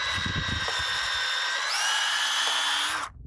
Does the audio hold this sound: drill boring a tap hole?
yes